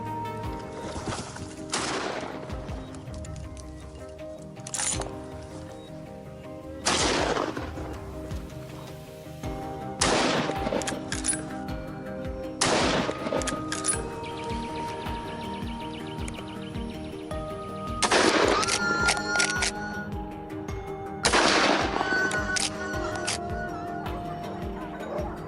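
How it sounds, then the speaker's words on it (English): A hunter's gunshot fired at a wild boar on a California farm, heard as several sharp broadband cracks spaced a few seconds apart over steady outdoor and boat noise. "Without hesitation, a gunshot rang out, neutralizing the threat in an instant."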